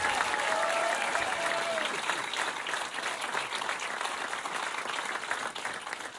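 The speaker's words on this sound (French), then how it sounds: "J'aimerais qu'on applaudisse mon père et ma mère qui sont rentrés dans le spectacle ce soir." Steady, dense audience applause fills a comedy show in Les Mureaux as the crowd claps for the comedian's father and mother, loud and sustained throughout with a faint crowd murmur.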